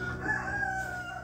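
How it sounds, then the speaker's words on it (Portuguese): A rooster crows in a steady, drawn-out call heard from some distance, clear over faint background hum, with no one talking during it. "Olha o galo cantando aí."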